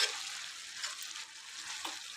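Cabbage frying in oil with salt and chili powder while being stirred: a soft, continuous hiss of sizzling with faint scraping movements.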